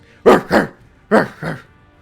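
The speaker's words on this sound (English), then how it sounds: "Kratz begins to hear barking." A dog gives four sharp, loud barks close by, grouped in two quick pairs separated by a short pause, with nothing else around them.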